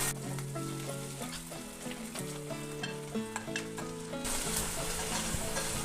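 Chopped onions, curry leaves and coriander fry in a pan with a steady close sizzle, stirred throughout, with music playing along.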